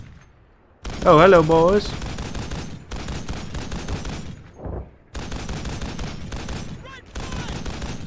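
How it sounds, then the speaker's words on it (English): A 50 cal machine gun fires in bursts in a video game, loud heavy rattling volleys that start and stop across the clip, with someone speaking briefly near the start. "hope that 50 cal still has something in it. The 50 works."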